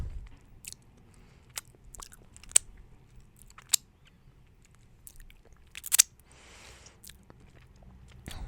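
Chewing Burger King veggie tenders close to the mic, with scattered soft crunchy bites and sharp clicks spread over quiet pauses, no talking.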